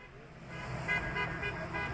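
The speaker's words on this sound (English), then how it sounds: "Honk the horn." A car horn toots several times in short bursts over steady road and engine noise, with brief voices nearby.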